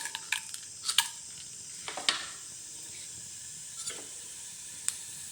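Urad dal frying in hot coconut oil in a kadai for tomato chutney: soft, quiet sizzling and crackle with a few sharp clinks and scrapes of a utensil against the pan, close by.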